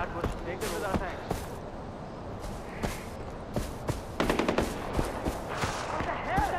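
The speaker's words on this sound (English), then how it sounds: "Is that gunfire coming?" Gunfire in the Far Cry 4 video game: sharp bursts of shots and rapid automatic fire crackle at moderate distance, scattered over ambient game noise.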